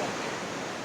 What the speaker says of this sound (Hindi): देखो पानी केमती झर झर बही